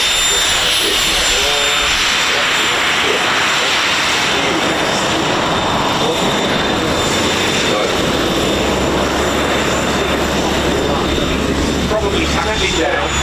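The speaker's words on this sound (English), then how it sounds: "This is a gyrocopter, and this is one of the world's best gyrocopter pilots." Gyrocopter engine running as it taxis at the Old Buckenham airshow, a steady loud droning roar throughout, with a person talking over it.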